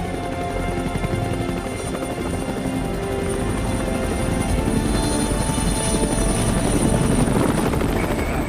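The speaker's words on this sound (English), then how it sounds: "hear the drone of the helicopter engines" Helicopter engines drone steadily and loudly over a Rocky Mountain valley during a night rescue, a continuous rotor and turbine rumble with a faint high whine that holds constant and grows slightly stronger toward the end.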